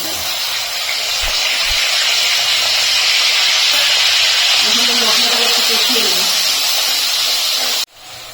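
Green chili, ginger and tomato paste hit hot oil with cumin seeds for a vegetarian cauliflower curry, giving a loud, steady, close sizzle that holds without a break and then cuts off abruptly near the end.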